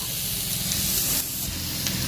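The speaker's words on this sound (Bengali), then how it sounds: "পাঁচফোড়ন লঙ্কা পেঁয়াজ দিয়ে বেগুন আলু তুলে দিয়েছি এগুলো একটু ভাজা ভাজা করে নিচ্ছি" Eggplant and potato frying in a pan with onion, green chili and panch phoron give a steady, close hissing sizzle that runs without a break.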